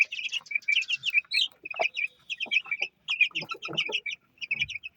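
Young chickens, a clutch of eight maturing chicks with the cockerels starting to show, chirp and peep in quick overlapping bursts at close range, with a few lower clucking notes mixed in.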